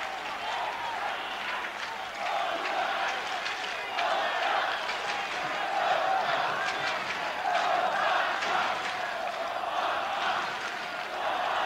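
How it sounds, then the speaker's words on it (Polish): A stadium crowd applauds the American goalkeeper Tony Meola at a Poland versus USA football match, a broad, steady wash of clapping and crowd noise that swells and holds for several seconds. "Brawa dla amerykańskiego bramkarza."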